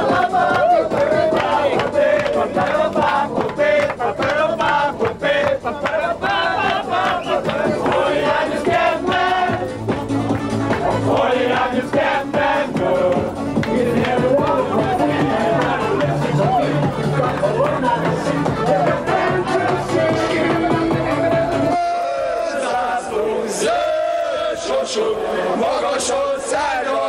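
A celebrating crowd of green-and-white football fans, loud continuous roaring, chanting and cheering throughout, with a voice speaking over it and a brief dip near the end.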